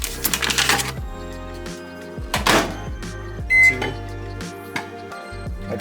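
A microwave oven heating chicken hums steadily at close range, with a few sharp beeps and clicks over the drone.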